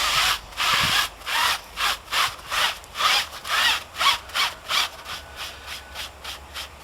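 A foamy, milky TufShine clearcoat is worked into the grooves of a tire by rubbing, making a steady back-and-forth scrubbing rhythm of about a dozen close, fairly loud strokes that speed up slightly toward the end, with no talk.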